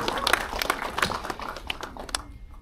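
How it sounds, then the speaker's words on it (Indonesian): An audience claps in applause for a film at a gala premiere, a mix of scattered hand claps and crackly rustling that fades out toward the end. "Tepuk tangan buat film ini"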